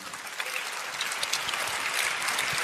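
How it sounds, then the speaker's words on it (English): Applause from an audience at a community talk, steady dense clapping throughout, fairly close and sustained without speech over it. "everyone give him a round of applause,"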